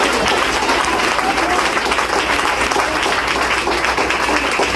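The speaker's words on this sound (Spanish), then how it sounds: "Den un fuerte aplauso a Cristo en esta hora." A church congregation applauding, a loud, dense and steady wash of many hands clapping that continues without a break.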